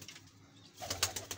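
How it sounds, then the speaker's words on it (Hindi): Soft, low pigeon coos rise briefly in a quiet pigeon breeding loft, a few muffled throaty pulses close by. "ये देखें ये कितने सारे कबूतर हैं।"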